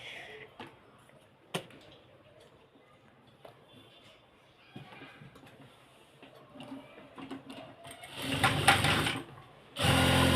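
A sewing machine stitches hijab fabric nearby, quiet soft ticking at first, then bursts of loud, steady whirring stitching toward the end.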